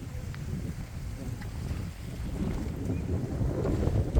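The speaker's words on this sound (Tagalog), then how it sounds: "Mahangin lang pero" Wind blows steadily across the microphone on a bridge over a river near the sea, a loud low rumbling buffet that swells and gusts without pause and with no talking.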